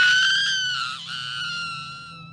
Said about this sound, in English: then screaming her lungs out